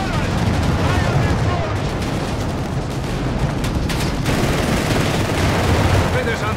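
Dense World War II battle gunfire from the Company of Heroes 3 video game, rattling machine-gun bursts and heavy shots overlapping in a loud, continuous barrage with no pause.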